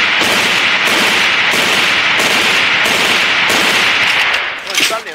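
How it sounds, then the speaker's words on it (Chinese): A G3A3 rifle fired in three-round bursts in the AVA video game: loud, rapid shots pile up in dense, repeated bursts with short gaps, and a voice talks underneath. "基本上呢，我的射击技巧方式就是三连发"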